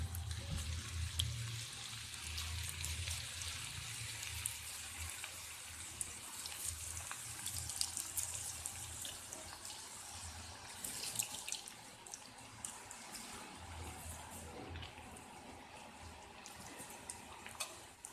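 Potato sticks for a chilli aloo snack frying in hot oil, a dense, steady hiss of bubbling oil lasting throughout without a break, loud and close, with no talking.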